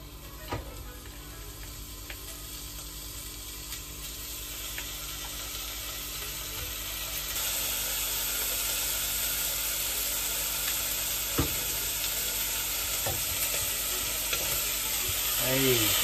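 Breakfast ingredients sizzle in olive oil in a pan that started out barely warm, a steady low hiss that swells a little louder partway through, with faint clinks of a utensil and no talking.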